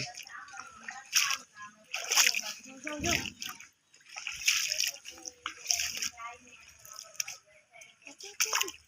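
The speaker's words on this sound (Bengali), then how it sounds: "বন্যার পানি নেমে গেছে এখনো জায়গায় জায়গায় পানি জমে আছে আমরা যাচ্ছি" Footsteps slosh and splash through lingering floodwater after a flood, wet uneven steps repeating close by with drips, while a voice talks over them at times.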